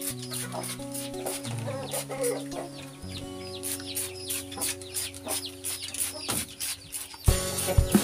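Chickens cluck and call repeatedly inside a coop, their overlapping fowl voices close and steady, with a brief spraying hiss near the end.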